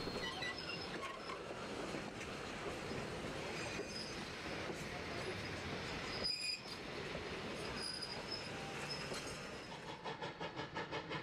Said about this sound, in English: the train comes back into view on its way toward Jamestown